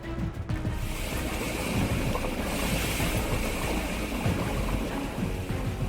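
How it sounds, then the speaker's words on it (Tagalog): A Supercat bath bomb drops into bathtub water and fizzes, giving a loud, continuous rushing wash with a sharp splash at the start and no voices. "ngayon ay ihuhulog ko ang bombang Supercat"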